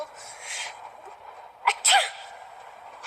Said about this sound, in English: You wouldn't be sneezing if you weren't cold.